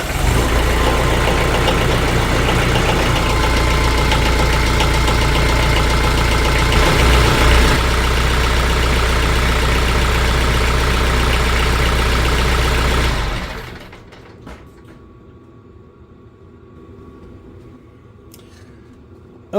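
A TYM T474 tractor's diesel engine idles loud and steady right after an oil change with Shell Rotella T4 15W-40, then suddenly drops to a much quieter, softer idle partway through.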